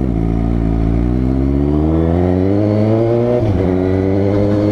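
A brand-new Suzuki GSX-S750 motorcycle, fresh from the dealership, revs up loud and close, its engine note climbing steadily for several seconds before dipping briefly and rising again.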